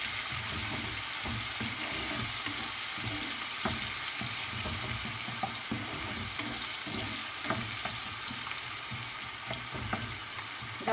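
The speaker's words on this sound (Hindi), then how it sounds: "जब तक ओनियन थोड़ा सा ब्राउन नहीं हो जाता है हमें फ्राई करना है इसी तरह" Chopped onions fry over medium gas in a pan for a salmon green fish curry, giving a steady, close sizzle with soft stirring scrapes throughout, no voices.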